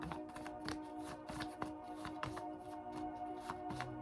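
Tarot cards are shuffled by hand, a rapid papery riffle of soft flicks and taps continuing throughout, set against steady background music.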